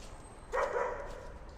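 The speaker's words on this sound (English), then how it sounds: "Собака." A dog gives one short, clear bark from a moderate distance, followed by a brief fading tail against quiet outdoor background.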